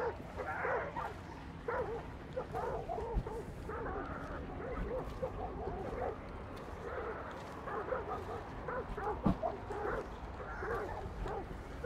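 Several dogs bark and yip in a Hunt: Showdown match, repeated uneven bursts at mid distance mixed with whimpering, while players talk over them.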